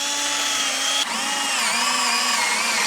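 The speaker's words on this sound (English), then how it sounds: "With a good old drill, let's drill a hole." A power drill bores a hole through a plastic spool, its motor whining loud and close in a steady high drone that shifts pitch about a second in as the bit bites.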